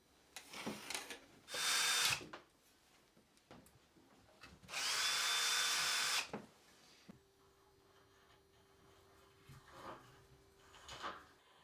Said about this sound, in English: Drill and plug pilot holes, then replace and fix both brackets.